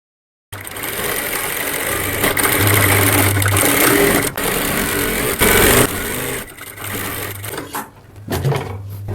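A tailor's sewing machine stitches along marked lines on a cotton kurti collar, a close, steady motor whir with shifting speed that eases off and breaks up near the end.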